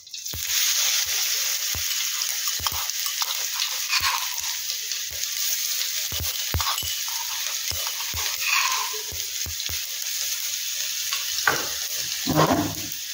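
Garlic goes into hot oil already crackling with mustard and cumin seeds, giving a loud, continuous close-up sizzle with scattered pops and a few stirring clicks, and a brief watery hiss near the end.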